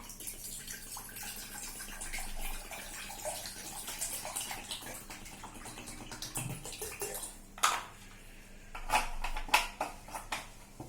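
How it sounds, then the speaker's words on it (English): Water poured into a metal jar that already holds wax, a steady splashing trickle with a few sharper clinks and gurgles toward the end, close and fairly quiet, with no voices. "Now we are going to pour a little water in this metal jar."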